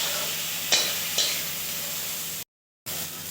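Chicken butter masala fries in a pan with a constant close sizzle, broken by two sharp scraping stirs early on, then a brief total cutout before the sizzling resumes.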